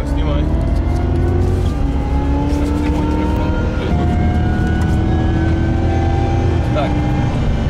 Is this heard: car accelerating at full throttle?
yes